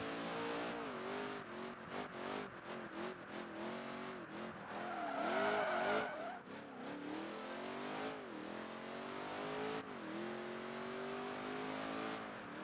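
A race car in Project Gotham Racing 3 revs hard and shifts gears rapidly, its engine pitch climbing and dropping again and again, with a brief tire squeal in the middle and no talk.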